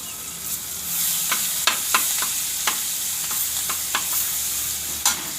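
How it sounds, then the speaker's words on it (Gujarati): Hing and ginger-garlic paste hit hot oil with cumin, setting off a steady bright sizzle close by, punctuated by repeated scraping clicks of a spoon stirring through the pan. "હવે આપણે આમાં હિંગ નાખી દઈએ અને આદું લસણની પેસ્ટ નાખી દઈએ"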